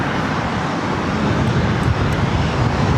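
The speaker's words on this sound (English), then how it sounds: "This is Southwest Airlines 1872 taking off to Oakland on a 737-700." Southwest Airlines Boeing 737-700 jet taking off at LAX, a steady, loud broadband engine roar sustained throughout with no break.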